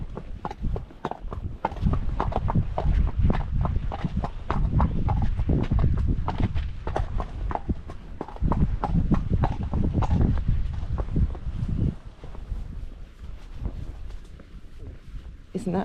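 A ridden horse out hacking walks along a country road, its hooves clip-clopping in a steady rhythm beneath loud wind buffeting the microphone, with occasional faint rustles around it.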